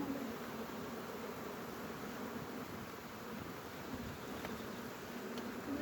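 Honeybees at an open hive, a dense, steady buzzing drone that stays close and loud for the whole stretch with no voices.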